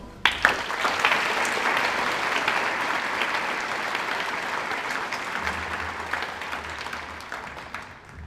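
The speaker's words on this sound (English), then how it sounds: "please give a warm round of applause for Colonel William Arnold" Sustained audience applause fills a Veterans Day remembrance held by a high school JROTC as Colonel William Arnold is welcomed, a dense, steady clatter of many hands from start to finish that eases slightly near the end.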